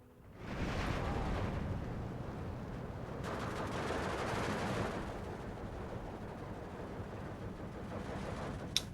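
Artillery strike explosions in Steel Division 2, a rumbling barrage of distant blasts and gunfire rolling on continuously at moderate volume, with a sharper hit near the end.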